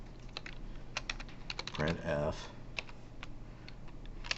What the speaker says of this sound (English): Well, I can type it in again.